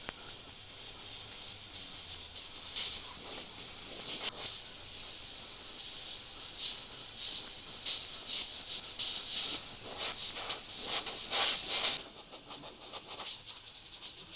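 An airbrush sprays over-thinned paint at lowered pressure onto a tiger artwork, a close continuous airy hiss that pulses and fades briefly as the trigger is worked, with no voices.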